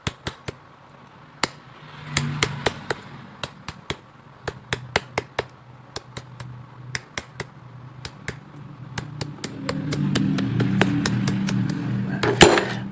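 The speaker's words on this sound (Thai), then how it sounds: "เราก็ใช้ค้อนนะครับ ค้อนเคาะ ให้ลวดมันอ่อนนะครับ" Sharp metallic hammer taps on copper wire ring out in irregular bursts, some quick runs and some spaced apart, close by, with a low hum building toward the end.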